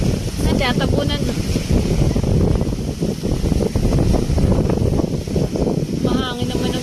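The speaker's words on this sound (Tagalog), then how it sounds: "Mahangin naman ang pagbabangka" Gusty wind buffeting the microphone while out on a small boat at sea near the shore, a loud continuous rumble with talking voices underneath.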